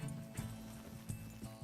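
Horse hooves clip-clopping in Red Dead Redemption 2, a few soft rhythmic hoof beats over faint game ambience.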